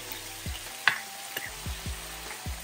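Fish sauce and stock hit a hot pan for Peruvian-style mahi mahi, giving a steady sizzle broken by several soft low knocks and one sharper clink from stirring. No one speaks.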